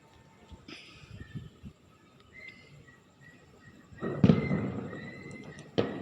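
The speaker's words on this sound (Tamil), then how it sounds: "பட்டாசு செம்மையாக வெடிக்கிறாங்க." Firecrackers bursting outdoors at an election victory celebration, a loud crackling burst followed by a sharp pop, after a quieter stretch of faint chirps and distant background noise.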